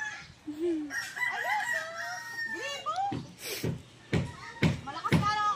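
A rooster crows in a long, wavering call, followed by several loud, abrupt sounds close by, with people talking in the background.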